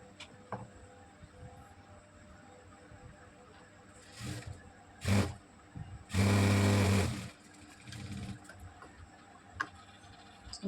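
A sewing machine stitching a blouse seam runs in short bursts, with a long steady whirring run in the middle between shorter ones, over quiet ticking of the mechanism.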